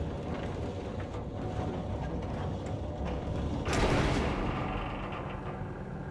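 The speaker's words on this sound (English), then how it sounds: "let's continue the elevator ride" Elevator ride in the video game Control, a steady mechanical rumble with faint creaks and ratcheting that swells into a louder whooshing surge partway through, then settles back.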